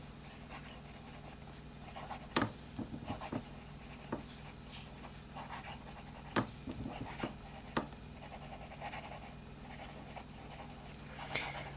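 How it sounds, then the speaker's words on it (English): Scratchy strokes of a relatively dry, fine-nibbed fountain pen writing with Kaweco Sepia Brown ink on paper: close, quiet, and broken into short bursts by sharper ticks as letters start and end. "Let's start with a bit of fine writing"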